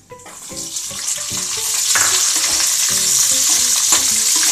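Onions added to hot oil with green chillies for chilli paneer, a steady bright sizzle and crackle in a pan with occasional stirring scrapes, close and continuous.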